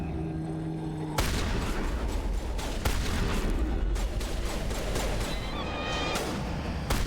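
Gunfire in the video game Mass Effect 1, a fast, dense volley of sharp shots and impacts starting abruptly and continuing in rapid bursts with a few louder cracks, over a low background rumble.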